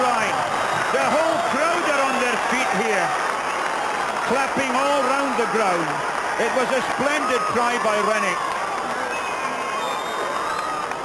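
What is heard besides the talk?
rugby crowd clapping and cheering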